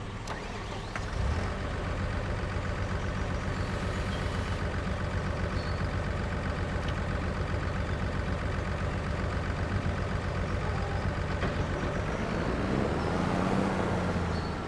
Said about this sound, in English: I need to move this truck out of the way